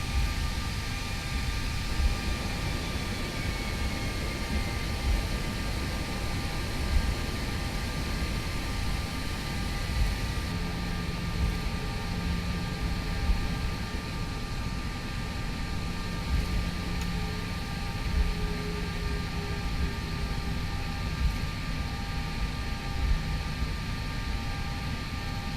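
Airliner taxiing on the ground in the X-Plane 11 flight simulator, heard as a steady, even engine drone and broadband rumble with a faint tonal whine, continuous and unchanging throughout with no talking.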